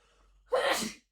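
A single sharp sneeze bursts out close by after a brief indrawn breath, loud and short against near silence.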